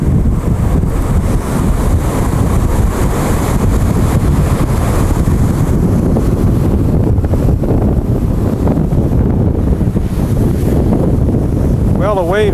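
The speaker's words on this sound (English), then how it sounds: "the waves just passed underneath the walkway here" Loud, roaring wash of ocean surf passing underneath a beach walkway during Hurricane Michelle storm erosion at Indialantic, Florida, mixed with heavy wind buffeting the microphone, continuous and close for the whole stretch.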